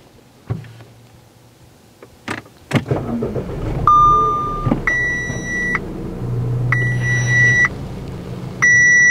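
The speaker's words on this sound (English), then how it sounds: "Start the car." A B8/8.5 Audi A4 with a Stage 1 tune cranks and fires up, settling into a low idle as repeated dashboard warning chimes beep in clusters over the running engine, close by.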